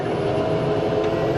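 TBM 940 turboprop engine in a flight simulator game spooling up during start as the secondary fuel nozzles kick in, a loud steady droning whine with a brief whistling rise.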